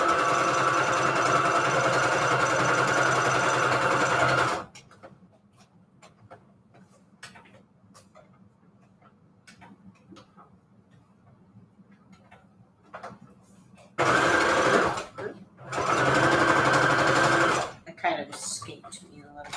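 A sewing machine stitches paper strips with green thread in loud, fast runs, pausing for a long quiet stretch of faint taps and handling before two more short bursts of rapid stitching.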